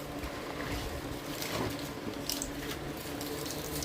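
Water runs and splashes steadily as it rinses a freshly painted waterproof cabinet surface, a continuous wet hiss with small spatters, no voices over it.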